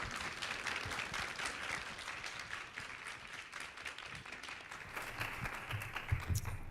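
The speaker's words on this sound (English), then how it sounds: "Let's give them a round of applause." An audience at a panel event applauds its panelists, a steady wash of many hands clapping at a fairly soft, distant level, continuous throughout with no one speaking over it.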